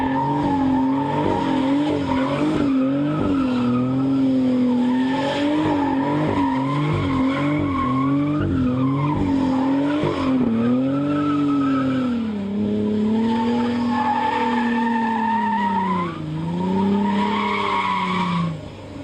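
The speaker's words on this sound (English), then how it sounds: "Let's go do donuts." A Shelby Terlingua Mustang spins donuts, its tires squealing in a long continuous wail that bends up and down in pitch over a loud, close engine drone, with no talking.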